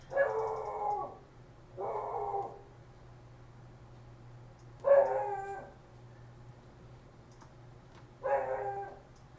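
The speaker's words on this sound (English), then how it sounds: "There goes the neighbor's dog." A neighbor's dog barks in four separate bursts, each with a few quick barks and roughly even gaps between them. The barking is moderately faint and sounds somewhat distant, over a low steady hum.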